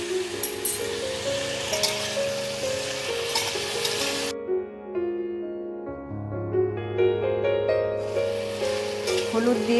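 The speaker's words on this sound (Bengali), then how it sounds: "হলুদ দিয়ে আমি এগুলোকে কিন্তু ভালো করে একটু ভেজে নিতে হবে" Vegetables frying with turmeric, a sizzle with stirring scrapes heard under background music, the hiss dropping away midway and returning near the end.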